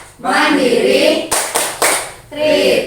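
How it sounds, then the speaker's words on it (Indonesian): A group of people claps hands in a few sharp, loud bursts, with a leader's voice speaking between them. "tepuk tangan untuk kita semua"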